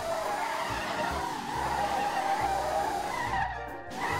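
Tires squeal steadily as a 4000HP Volkswagen Beetle slides and drifts around a circuit in a street racing video game. The squeal is loud and sustained over a rumbling engine, with pulsing low thumps throughout.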